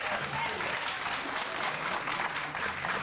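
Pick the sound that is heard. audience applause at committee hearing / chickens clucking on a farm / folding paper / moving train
audience applause at committee hearing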